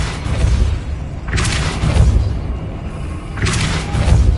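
Depulso spell cast in the Wizard Simulation video game: two heavy booming blasts a couple of seconds apart over a loud, rumbling low background.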